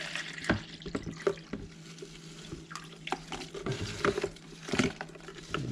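Liquid is poured out of a container in a kitchen, intermittent splashes and trickles with a few sharp clinks, moderately close and fairly quiet.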